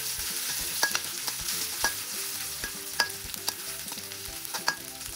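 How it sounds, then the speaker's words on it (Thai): Garlic and chili stir-fried in a hot pan for a Thai fern-and-shrimp dish: steady sizzling with repeated sharp spatula scrapes and taps, close and alone. "ใส่พริกลงไปจากนั้นผัดคลุกเคล้าให้เข้ากัน"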